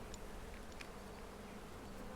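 Honey bees buzzing around an opened beehive during an inspection, a steady close drone of many wings with occasional individual bees passing near.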